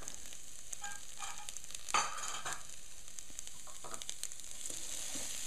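Sprouted wheat berries and split red lentils tipped into hot ghee in a pot, a quiet, steady sizzle with scattered crackles and a brief rattling clatter as the grains land, no voices.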